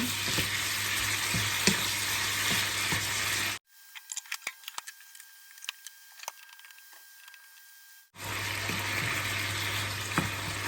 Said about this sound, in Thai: ผัดไปให้เรื่อยๆ เดี๋ยวเราชิมรสทีหลัง